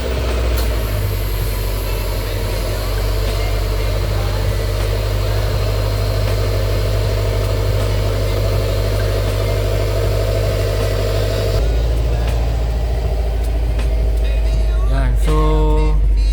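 A Subaru WRX STI engine turns over and settles into a steady, loud, low idle that continues throughout, with a short shift in tone near the end.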